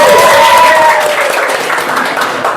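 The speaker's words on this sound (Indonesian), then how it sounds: "tepuk tangan semua" Classroom applause after children sing a short song, a dense burst of clapping from a group that starts loud and tapers slightly, with a faint voice briefly audible at the start.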